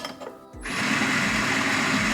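A La Marzocco Swan espresso coffee grinder switches on after a faint lead-in and runs with a steady, loud mechanical whir and high grinding buzz for the rest of the clip, close by with no talking.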